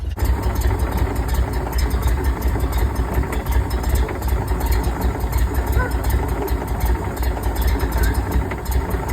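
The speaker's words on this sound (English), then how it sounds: "There's the engine in the back." A Dingo engine mounted at the back with a running issue idles smoothly and steadily, a continuous low rumble close by throughout.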